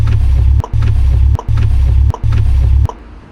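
A welded differential in a BMW E46 330Ci drag car makes a loud, rhythmic low rumbling while reversing, with four heavy grinding pulses each broken by a sharp clunk, then fading out.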